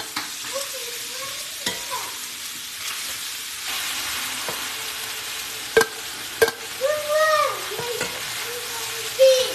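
Sausage and peppers fry in a skillet with a quiet, continuous sizzle, broken by a few sharp utensil scrapes and clacks of stirring toward the end.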